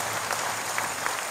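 A church congregation claps their hands in a dense, steady patter of applause, moderately soft and heard from within the room.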